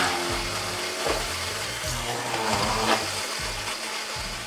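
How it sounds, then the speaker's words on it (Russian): A bladed blender motor whirs loudly and steadily, its pitch wavering slightly as it churns through a potato waffle mixture. "Давайте все перемешаем. Блендер"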